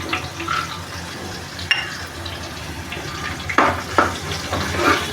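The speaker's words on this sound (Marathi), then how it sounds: "काजू थोडेसे फ्राय करू" Cashews frying in a pan for upma, a soft steady sizzle with a few louder stirring scrapes and clinks, close and moderately loud.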